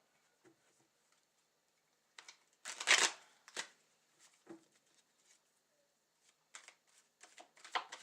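A deck of cards being shuffled close to the mic during a quiet live stream: two riffling bursts with a few soft taps and clicks between them, and no talking.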